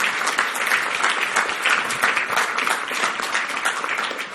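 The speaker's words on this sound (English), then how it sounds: "Can we have a nice round of applause for them?" An audience at a digital marketing keynote gives a sustained round of applause, dense and even hand-clapping filling the room at steady strength from start to finish, with no speech over it.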